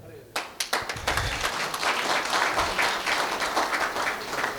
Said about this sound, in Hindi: तालियां इतनी कमजोर क्यों हैं यार?